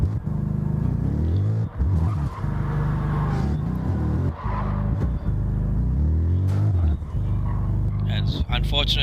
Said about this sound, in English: driving the Porsche 718